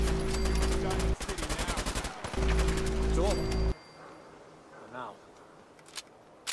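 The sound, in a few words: gunfire from the video game Fallout 4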